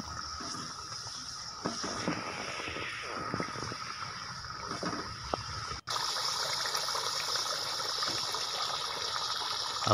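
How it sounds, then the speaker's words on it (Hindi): Water poured into a pan of curry spices while making almond potato curry, a steady gushing and sizzling pour that runs continuously, close and fairly even in level. "थोड़ा पानी ऐड कर दें ताकि मसाले जो हैं वो जले ना।"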